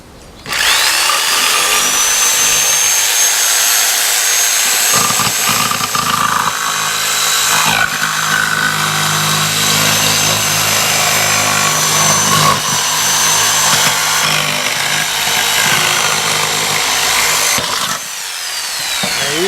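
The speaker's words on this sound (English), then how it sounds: "you just get a little jigsaw here and do it." A small jigsaw cuts through a chicken feeder in one loud, steady, continuous run of buzzing saw noise that lasts nearly the whole time, pausing briefly at the start and near the end.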